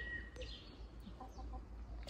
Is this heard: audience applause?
no